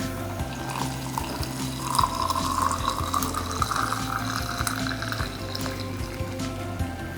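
Hot water is poured into an AeroPress over ground coffee, a steady close trickle of liquid that runs unbroken for several seconds.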